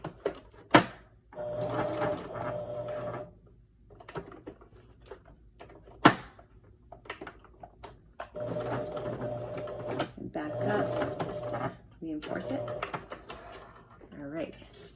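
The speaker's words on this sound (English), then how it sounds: "Just going back and forth over my elastic. A couple of stitches that way." A sewing machine stitches back and forth over elastic in short bursts, separated by pauses and a few sharp clicks, with a person talking during the quieter gaps.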